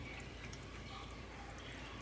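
Room-temperature water is poured into a container while making homemade yogurt, a faint, steady, continuous pouring with no talking.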